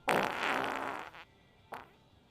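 A loud, close fart lasting about a second, followed by a shorter, fainter puff a moment later, with no talking over it.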